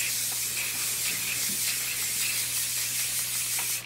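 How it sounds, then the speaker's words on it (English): A barber's aerosol can sprays in one long, loud, continuous hiss held for about four seconds and cut off at the end, close and steady, with no talk over it. "they really be spraying it like it's air freshener"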